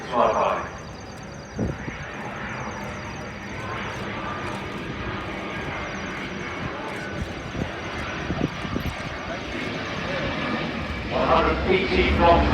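An Airbus A350-1000 airliner making a flyby during a flight demonstration at the Farnborough International Airshow, its engine roar rumbling steadily in the distance while an announcer talks over it.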